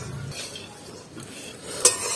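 Wheat being stirred while it dry-roasts in a pan for homemade chocolate malt drink, heard as soft scraping and rustling with a sharp metallic clink near the end, close and fairly quiet, no speech.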